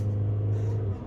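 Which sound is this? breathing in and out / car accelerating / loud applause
car accelerating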